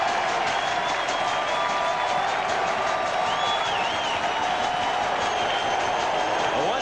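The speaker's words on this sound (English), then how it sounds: "We can hear the crowd roaring." Large ballpark crowd at Dodger Stadium during a Giants–Dodgers baseball game, a steady dense roar of voices and scattered cheering that holds evenly throughout, with faint whistles rising above the wash.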